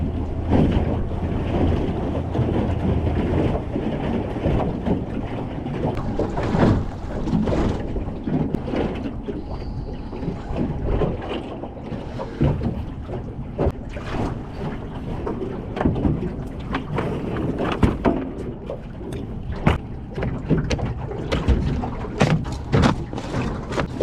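A small aluminium dinghy motors through choppy sea while out cray fishing off Perth, with a constant engine drone, hull thumps and splashes from bouncing over waves, and heavy wind buffeting the microphone.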